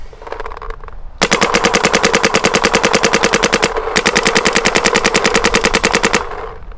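An Immortal Prime XTS paintball marker with a C5 engine firing rapidly in ramping mode, a loud, dense stream of sharp shots in two long bursts separated by a brief pause.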